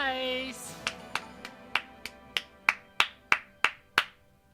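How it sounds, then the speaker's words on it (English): Hands clapping close by, about a dozen sharp claps in a steady rhythm that grow louder, after a brief snatch of a tonal voice at the start. "I was clapping."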